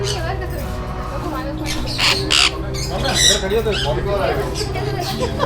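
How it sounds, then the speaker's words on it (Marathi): Parrots in an aviary squawk loudly and repeatedly at close range, the harsh calls overlapping over a constant background of bird chatter, with a voice heard talking beneath them. "हे बघा सगळे पोपटा वगैरे आहेत इकडे"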